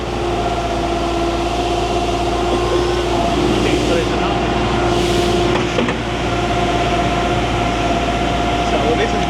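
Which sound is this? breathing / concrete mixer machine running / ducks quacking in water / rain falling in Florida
concrete mixer machine running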